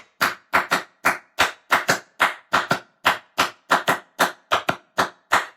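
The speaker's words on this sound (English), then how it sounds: "it's like a cowbell with a small one and a big small bell and a big bell." A gongkogwi, a Korean double bell with a small and a large bell, plays a 6/8 bell rhythm as a steady run of sharp, ringing metallic strikes, close and clear with nothing else underneath.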